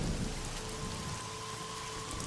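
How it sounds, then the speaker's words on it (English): Pouring rain in the 2019 video game AI: The Somnium Files, a steady, dense hiss of drops falling without pause, with a faint low rumble underneath. "Right now, she's standing in the pouring rain with her umbrella up."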